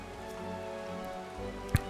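Steady rain falls in Final Fantasy XIV, a soft continuous hiss under sustained musical tones, with one brief thump near the end.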